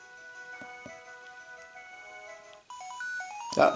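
Telephone ringing in the Pokémon White 2 video game, a short series of chiptune beeps and tones, fairly quiet, ending in a brighter burst of notes.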